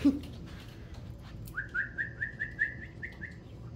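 A small pet bird called Tweety gives a quick run of about eight bright, rising whistled chirps, close and clear in a quiet room, after a brief low thump at the start.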